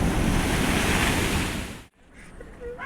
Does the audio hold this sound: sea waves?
yes